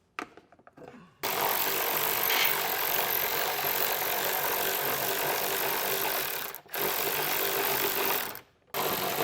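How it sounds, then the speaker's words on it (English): A ratchet with a 10mm socket spinning off nuts behind a panel on a 2023 Honda CR-V, a fast continuous clicking whir running for several seconds with two brief pauses, close and loud. "So with our 10mm socket, we'll go ahead and get those removed and then get our panel removed."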